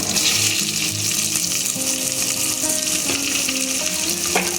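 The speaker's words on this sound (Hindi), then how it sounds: "फ्लेम कम करते हैं पहले इसको। अब प्याज डालो, डाल दो पूरा" Chopped onion sizzles steadily in a hot pan with dried red chillies over a lowered flame, a loud, dense hiss with faint scraping throughout.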